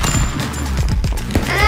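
Rapid bursts of gunfire in the stick-figure fighting video game Stick Fight, punchy cracks stacked over a dense, loud game soundtrack and effects, with quick repeated shots in a short span.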